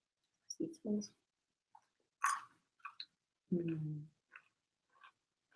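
Close-up crunchy chewing and biting of stir-fried green beans in short bursts, with some mouth noises and faint vocal sounds between bites.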